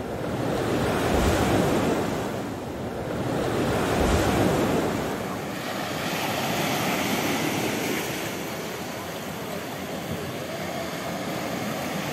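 Sea waves wash steadily onto the Black Sea's Serebryany beach at Balaklava near Sevastopol on a hot August morning, a loud continuous surf roar with slow swells and some wind buffeting the microphone.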